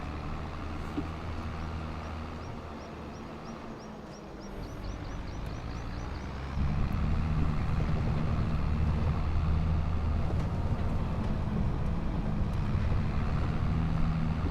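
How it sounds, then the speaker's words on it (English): A tractor rolls along steadily in Farming Simulator 25, a continuous low engine drone that grows louder and fuller about halfway through, heard alone without talk. "it's looking good as my tractor keeps on rolling"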